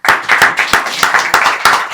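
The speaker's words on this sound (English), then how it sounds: "A big round of applause for you." An audience at a reparations conference in the House of Lords gives a loud, close round of applause, with steady overlapping hand claps filling the whole moment.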